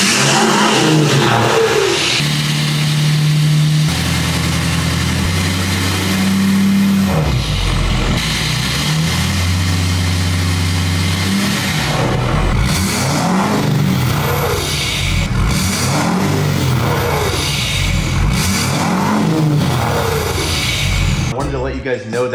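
A Ford 6.7L Powerstroke diesel truck fitted with a cold air intake, revved hard inside a shop for a brake-boosted launch; loud, close engine roars rise and fall repeatedly, with deep throaty bursts.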